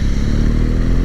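A BMW R1200GS Rallye adventure motorcycle on the move gives a steady, loud, low engine drone with constant road and wind noise and no change in pace.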